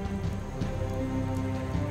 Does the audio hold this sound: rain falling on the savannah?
yes